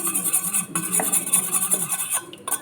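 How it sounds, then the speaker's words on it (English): Two eggs being mixed with salt and pepper in a bowl, heard as a busy stream of quick metallic clinks and scrapes of a utensil against the dish, close and fairly loud, with no talking. "I have 2 eggs here. I'm going to add salt and pepper and mix it."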